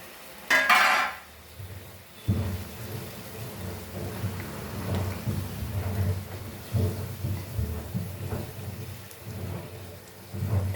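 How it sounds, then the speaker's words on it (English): Tomatoes are tipped into a hot pan of prawns for a Goan prawn curry, setting off a sharp clatter and burst of hissing, then a steady crackling sizzle with intermittent scrapes and pops, close by and without speech. "So now we'll add our tomatoes to this, because prawns takes very quick to get cooked."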